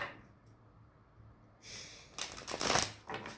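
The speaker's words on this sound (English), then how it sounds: "these cards are being shuffled pretty crazy right now" Tarot cards being shuffled close up, with quiet rustling at first and then a louder burst of quick riffling and flicking near the end.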